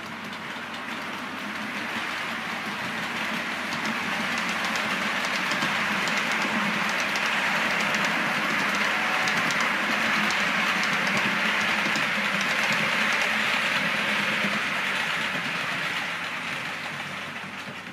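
Four 2-EPB electric multiple units pass, a steady rumbling roar with rail clatter that swells up, holds for several seconds and fades, heard alone from trackside.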